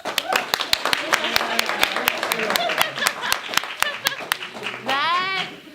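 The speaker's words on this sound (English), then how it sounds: "Give her a round of applause" A small staff-training audience claps for a presenter, a run of sharp, fairly close hand claps at an uneven pace, with voices chattering underneath throughout and a high-pitched voice rising near the end.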